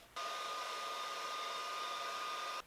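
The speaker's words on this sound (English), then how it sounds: "I'm just going to take my hairdryer and dry it off" A hair dryer switches on and blows with a steady, loud whoosh and faint whine, drying surface moisture off a resin and burl piece, then cuts off.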